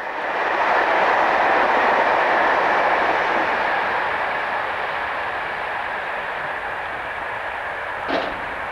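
An SNCF BB15000 electric locomotive, number 15053, hauls a passenger train toward Paris, a broad steady roar of rolling wheels passing close and gradually easing, with a brief sharp clank near the end.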